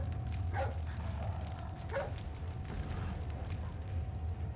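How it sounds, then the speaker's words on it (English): A dog in Resident Evil 4 Ultimate HD Edition barks twice, a few seconds apart, over a constant low game drone and a faint steady tone. "Hey, it's that dog."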